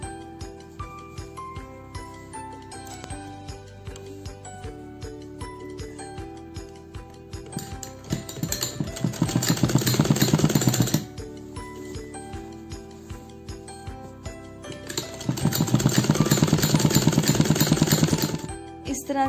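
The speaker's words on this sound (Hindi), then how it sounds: "अब हम इसमें फ्रंट में सिलाई लगाएंगे पक्का करने के लिए" A sewing machine stitching along the front of fabric, with a rapid mechanical chatter that swells into two louder, longer bursts of running stitches between quieter ticking pauses.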